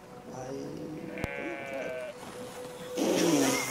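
A six-legged sheep in the video game Brothers: A Tale of Two Sons bleats twice, a wavering cry followed by a louder, shakier one. Both are fairly quiet and close, with faint background sounds between them.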